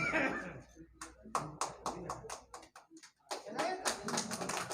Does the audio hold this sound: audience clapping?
yes